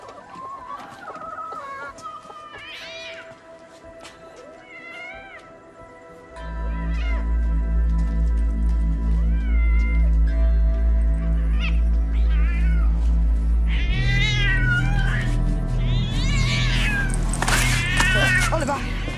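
A cat meows repeatedly in short, rising calls over the first seconds. Then a loud low rumble comes in underneath, and more strained, yowling cries build near the end.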